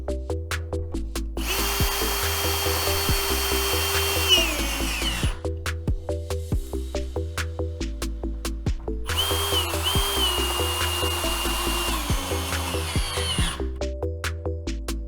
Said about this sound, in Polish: W nawiercone otwory wkręcamy wkręty.